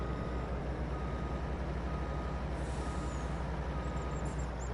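Steady engine drone of a truck hauling a cattle trailer in a farm video game, continuous and fairly loud with no talk, a brief hiss partway through.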